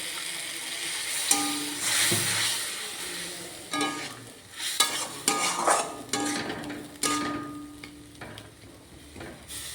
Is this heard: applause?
no